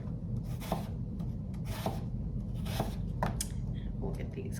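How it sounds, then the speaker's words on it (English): A knife chops skin-on apples into a rough dice on a cutting board: about five crisp, close strokes land at uneven intervals over a steady low background hum. "and then I chop really quickly into a nice dice"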